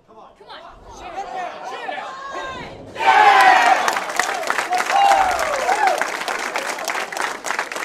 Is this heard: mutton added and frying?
no